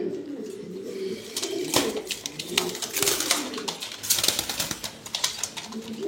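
Teddy pigeons coo in low, throaty rolling calls nearby, overlapping one another, with faint tapping and rustling underneath, at a pigeon farm.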